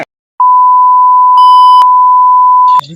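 A telephone line gives one long, steady, very loud electronic tone lasting over two seconds, broken by a couple of brief clicks, with faint noise as it cuts off.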